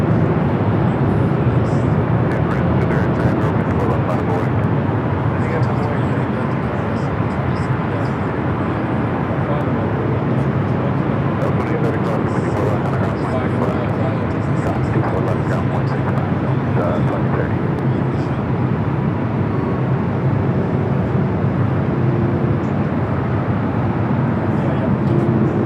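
A Boeing 777-300ER airliner at Los Angeles International Airport gives off a loud, steady jet roar that runs unbroken and close-sounding for the whole stretch.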